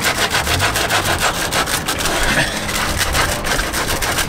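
Sandpaper scrapes back and forth across a car tyre in steady, rhythmic rasping strokes, close and loud throughout with no voices.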